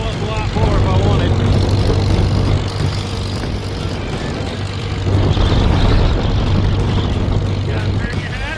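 A Farmall M tractor engine runs steadily at speed with its throttle partly open, a loud continuous low drone with a throbbing hum that swells and eases slightly, sounding close up and alone.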